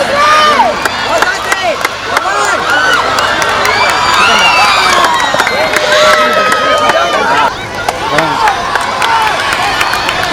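Crowd of parents and students cheering and shouting at a school sports meet during a 100-meter dash, loud and continuous, with excited children's voices layered over a constant roar.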